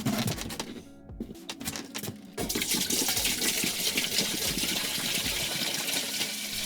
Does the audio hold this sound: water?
yes